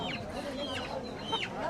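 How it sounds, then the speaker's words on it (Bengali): A rooster clucks in short bursts amid the steady murmur of a busy rural weekly market in Bangladesh, where vendors sell fresh vegetables, ducks and local country chickens, with voices chattering in the background. "এই যে এদিকে দেখেন মোরগ আছে।"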